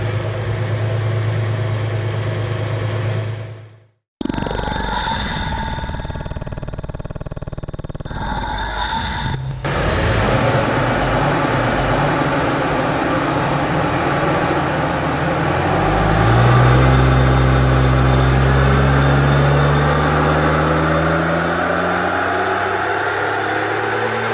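A supercharged Toyota FJ Cruiser engine, tuned with an aftermarket ECU, runs loud and close, droning steadily at idle with a brief cut-out, then climbing into a higher rising revving whine toward the end.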